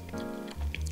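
Someone bites into a crispy yellow cheese macaron: a short, close crunch and soft squish of the shell, then brief chewing, with no talking.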